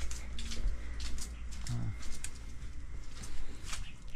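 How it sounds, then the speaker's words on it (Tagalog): Pigeons coo softly in low, rounded murmurs against a busy, rustling background with faint voices nearby. "Yan, meron siyang mga alagang kalapati rito."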